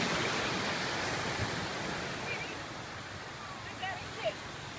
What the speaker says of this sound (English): enjoying the waves and the view